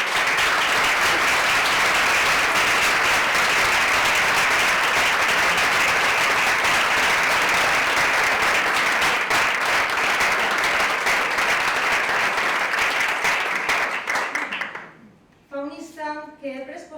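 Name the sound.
audience applause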